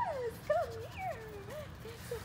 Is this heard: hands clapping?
no